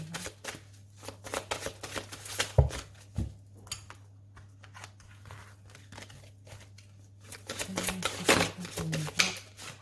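Tarot cards are shuffled close by in quick, papery bursts of riffling and flicking, busy at the start, quieter through the middle, then vigorous again near the end, over a low steady hum.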